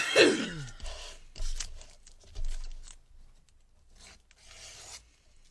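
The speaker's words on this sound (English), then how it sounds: "And now I'm just going, pulling the tape off" Tape being pulled off skin near a dressing in several short rasping tugs, close and quiet, with pauses between the pulls.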